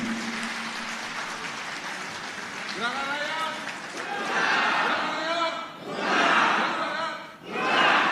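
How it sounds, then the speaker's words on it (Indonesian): An audience at an Indonesian political dialogue event breaks into applause, swelling in waves of clapping and cheering, with a voice speaking over the start before the crowd noise rises. "Teman-teman berikan aplaus yang sebesar-besarnya kepada Bapak Tom Lemong"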